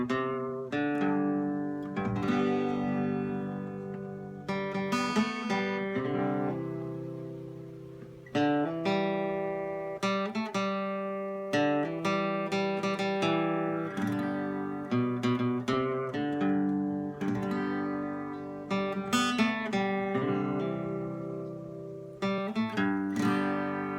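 Fingerstyle acoustic guitar playing a song, a steady, gentle flow of plucked notes and ringing chords, close and clear, with no voices.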